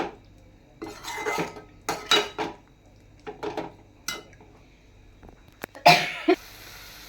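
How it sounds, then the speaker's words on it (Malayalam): Homemade lemon pickle is stirred in a pan over raised heat, producing irregular bursts of metal spoon scraping and clinking against the pan, separated by quiet gaps, close up with no speech. "ഒന്ന് തീ ഇച്ചിരി കൂട്ടിയിട്ട്"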